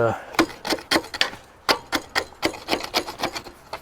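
Grease is scraped off a fifth wheel plate with repeated close, gritty scraping strokes at a brisk, fairly regular rhythm, each stroke a short rasping burst, loud against a quiet background.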